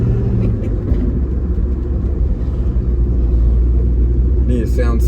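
A 1972 Nova with no mufflers drones steadily while driving, a loud, close, low rumble throughout, with a brief higher sound near the end.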